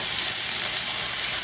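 Breakfast potatoes with green peppers and onions pressed flat in a single layer in a pan, frying with a dense, steady, close hiss that runs unbroken and alone.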